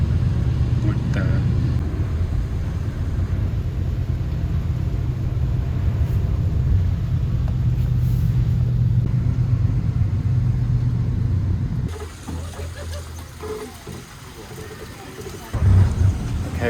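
A shuttle bus heading to Ba Na Hills in rainy-season Vietnam hums with a steady low engine rumble from inside the cabin, the drone easing toward the end as the ride changes pace.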